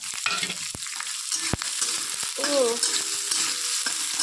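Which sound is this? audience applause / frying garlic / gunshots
frying garlic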